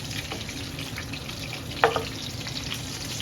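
Fish frying in hot oil in a home kitchen gives a faint, steady sizzle, with one brief sharp pop or clatter partway through and no talk.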